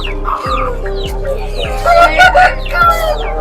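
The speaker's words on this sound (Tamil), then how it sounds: "கோழிலாம் ஏகப்பட்ட கோழியா இருக்கு" Chickens cluck and a rooster crows at the Kunnathur goat market, with loud overlapping calls close by over a constant low background hum.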